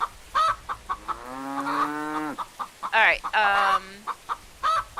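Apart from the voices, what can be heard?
chickens clucking in video game Greenfield Valley farm simulator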